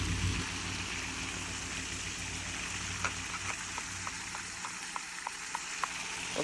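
Floodwater flowing in during a flood attempt, a steady broadband rush like a stream or heavy rain, with faint regular ticking drips toward the end.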